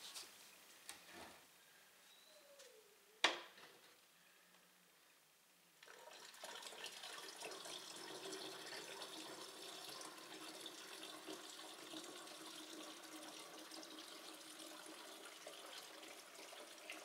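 Water runs from a kitchen tap to top up a peanut butter mead mix. A few faint clicks and a short squeak come first in near-quiet, then a steady, moderately loud stream of flowing water continues to the end.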